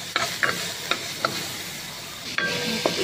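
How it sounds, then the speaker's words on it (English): Garlic sautés in a pan with a steady sizzle, broken by several sharp scrapes and taps of a spatula against the pan, close and fairly loud, with no talking. "Saute the garlic."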